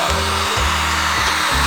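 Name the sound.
heat gun heating vinyl car wrap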